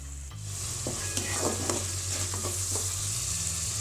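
Thick tamarind paste bubbling and sizzling in hot oil as its water cooks off for tamarind rice, with a steady low hum and occasional stirring scrapes close up.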